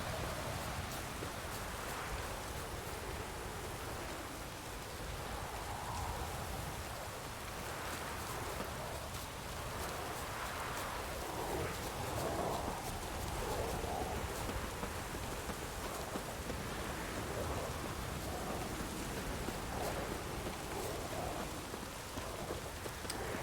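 Steady rain falling in the dingy, atmospheric world of the video game The Witcher 3, a continuous dense hiss of drops on surfaces that stays even and unbroken throughout, with no voices over it.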